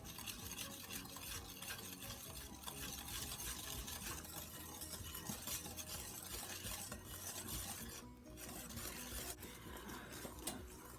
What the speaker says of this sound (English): Going to whisk the dry ingredients in until it's well incorporated.